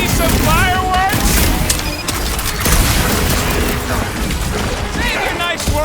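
Explosions and crashing impacts in the action game Guardians of the Galaxy, loud repeated booms and smashes in a dense battle mix, with voices and effects layered over the blasts throughout.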